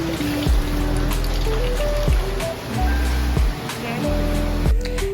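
Water runs from a shower in a campsite bathroom with a water heater at the Lembah Bromo camping ground, a steady broadband splashing hiss with stepped musical tones playing over it.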